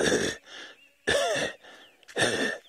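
A person imitates a dog coughing: three harsh, raspy coughs, each one separate and close, with a wheezy, throaty edge and short quiet gaps between them.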